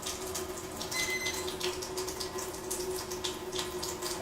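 A steady stream of alkaline water runs from a water ionizer's spout, a continuous close splashing rush with no talk.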